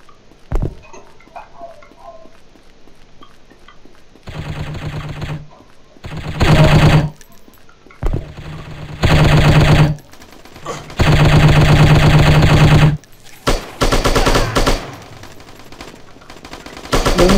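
Automatic gunfire in the shooting game Striker comes in loud, rapid bursts of several seconds each, separated by quieter gaps with faint ambient clicks.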